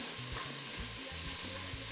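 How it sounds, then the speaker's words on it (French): A piece of meat sears in hot fat in a pan, giving a loud, steady, dense sizzle with faint stirring or scraping knocks underneath, no voices. "Quand tu mets ta viande sur ta casserole, ta matière grasse, il va se créer une petite croûte."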